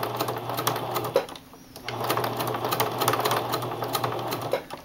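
Sewing machine running a close satin stitch around a circle on purple fabric beside green fabric, a steady rapid needle patter up close, briefly pausing about a second in before resuming at an even, slow pace.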